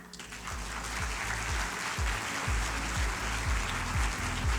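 Sustained, dense clapping from a packed auditorium at a congress panel session, steady and full for several seconds with a low rhythmic thump running underneath.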